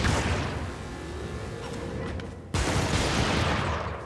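Sustained artillery fire in a video game strafing run roars as a dense, loud rumble of blasts and rapid shots, briefly easing before a sudden heavy renewed barrage near the end, with no talk.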